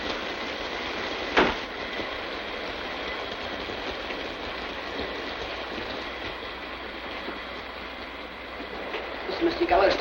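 A moving train rumbles steadily on board, a dense, even roar with one sharp knock early on. A voice briefly breaks in at the end, in an old black-and-white social drama.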